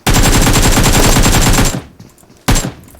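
Sustained automatic gunfire in the PUBG Mobile video game, a loud rapid burst of shots lasting nearly two seconds that cuts off abruptly as the ammo runs out, followed by a short quieter gap and one more loud blast.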